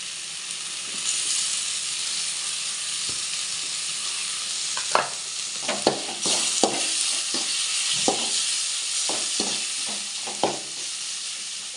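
Onions sauté in a pan for a country chicken curry, a steady bright sizzle broken by several sharp knocks of a spoon stirring against the pan, close and with no speech.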